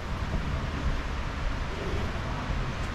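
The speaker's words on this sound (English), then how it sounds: "I know there's water coming out of there because all this water, look at it coming down through here" Water from a waterfall pours down through a channel, a steady broadband rushing roar that stays constant and fairly close with no speech over it.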